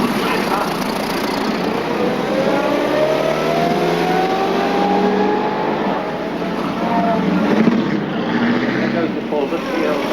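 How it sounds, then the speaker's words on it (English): A Maserati 250F Formula One racing car from the 1950s with its engine revving, a loud, continuous roar that rises and falls in pitch over ten seconds, with talk mixed in. "car I was driving was a 250F Maserati, which is something I drove in my heyday in the 50s"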